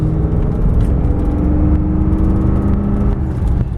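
A 1992 Mercedes-Benz 400E W124 engine drones steadily while the car is driven, a loud, continuous low hum with road noise and no talking.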